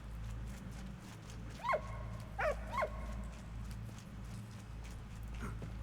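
A dog in the Valiant Hearts video game gives three short, sharp barks in quick succession over a steady low background drone, moderately close and alone without talk.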